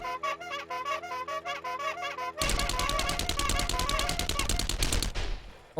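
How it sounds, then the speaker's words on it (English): Rapid automatic gunfire in the zombie survival video game 7 Days to Die, a loud sustained burst of evenly spaced shots following a softer stuttering run of fire, then cutting off. "I can hear gunfire from here"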